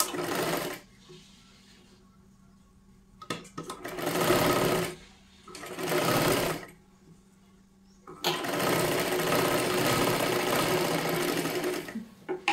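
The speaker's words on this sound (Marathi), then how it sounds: "खालच्या बाजूला आपल्याला पूर्ण शिलाई मारून घ्यायची आहे" Sewing machine stitching the lower seam of a three-piece princess blouse in size 36, running in several bursts of steady whirring with short pauses between, close and fairly loud, no talk.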